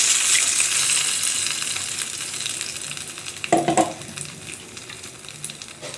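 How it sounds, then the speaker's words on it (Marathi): A whisked yogurt mixture hits hot tempering in a pan for kadhi and sizzles, with a steady frying hiss that fades gradually, a brief louder splash of liquid midway, and a few soft stirring clinks. "आता या फोडणीत आपण हे मगाशी घुसळून घेतलेलं दह्याचं मिश्रण टाकायचं आहे"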